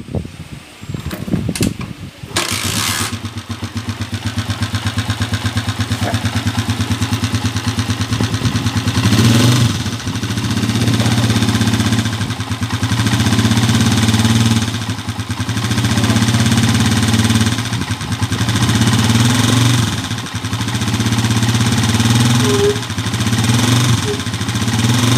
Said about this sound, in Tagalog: narinig nyo naman yung andar niya kanina maingay